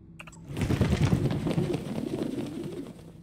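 A pigeon coos in the sci-fi video game Prey, aboard the Talos 1 station, a steady run of soft, low, throaty coos heard close and alone.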